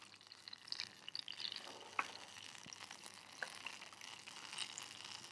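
Tamarind water poured over fried curry leaves in a hot pan gives a soft, steady sizzle and bubbling, faint and continuous, with a few small pops and no voices.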